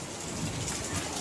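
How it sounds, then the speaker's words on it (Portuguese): Heavy rain falls on a rural farm during a storm, a dense, steady hiss of downpour with a low rumbling undertone, continuous and close throughout. "Tá parando a chuva, gente."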